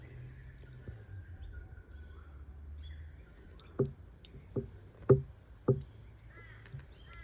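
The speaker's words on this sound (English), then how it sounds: "The crows are definitely back, which is nice to see." Crows caw outdoors, several separate calls spaced a second or so apart against a quiet background with faint rumble and distant bird chatter.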